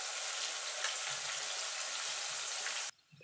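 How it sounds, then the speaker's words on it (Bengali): Potato pieces fried in hot oil while cooking a vegetarian jackfruit curry, giving a steady, dense sizzle that runs loud and even for nearly three seconds, then cuts off abruptly to near quiet. "এবার আলুটাকে আমি লাল লাল করে ভেজে তুলে নেব"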